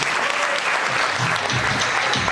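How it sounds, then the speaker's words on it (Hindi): A dense wash of applause from a large standing audience at a leadership training event, steady and loud throughout without pauses. "एक बार सब सीटों से खड़े होकर करेंगे तालियां"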